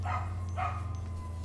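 A dog barks twice in quick succession, close and fairly loud, over a steady low hum in an indoor room.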